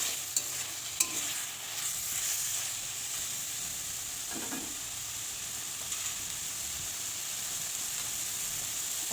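Taro leaf greens fry in a pan with a faint, steady sizzle and hiss, broken now and then by soft scraping clicks of a spoon being stirred through them.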